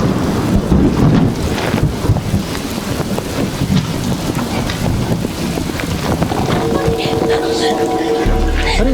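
Heavy rain pours with thunder in a street scene from an Indian crime drama, a loud, steady wash of rain with low rumbling throughout that deepens near the end.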